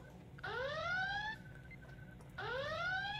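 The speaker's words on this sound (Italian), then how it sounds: "Allarme dichiarazione pericolosa." A synthetic alarm tone sounds twice, each a rising, buzzy harmonic sweep lasting about a second, loud and clear with a short gap between.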